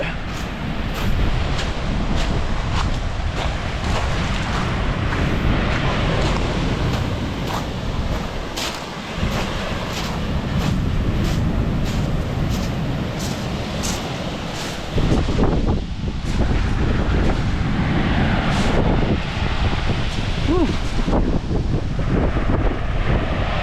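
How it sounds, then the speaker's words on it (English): Strong wind buffets the microphone constantly, roaring over the crash and wash of big ocean waves close by. "big waves"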